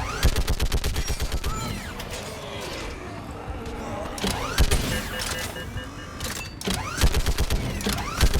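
Rapid automatic gunfire from the Mass Effect 3 video game hammers out in repeated close, loud bursts, with mechanical whirring and game combat noise between volleys.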